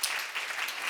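Brief burst of congregational applause at a church seminar, a dense wash of clapping that fills the moment steadily and moderately loud, with no voices over it.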